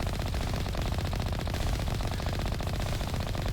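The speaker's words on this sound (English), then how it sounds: "And turrets. Not very accurate turrets." Turrets in the Mass Effect video game fire continuous rapid automatic bursts, a dense rattling stream of gunfire that carries on without pause, moderately loud and alone.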